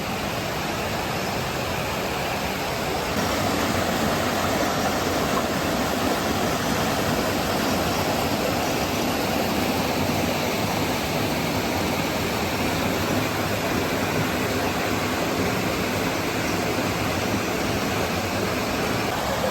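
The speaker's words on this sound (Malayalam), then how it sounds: "അത്യാവശ്യം നല്ല ഭംഗിയുള്ളൊരു കാട്ടരുവി എന്ന് വേണമെങ്കിൽ പറയാം" A forest stream flowing down from Banasura hill near an eco resort in Wayanad, a loud, steady rushing of water that holds constant throughout, with no voices.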